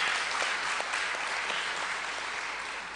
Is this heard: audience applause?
yes